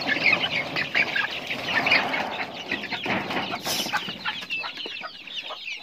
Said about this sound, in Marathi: त्याच्यात ही बघा कोंबडी घुसली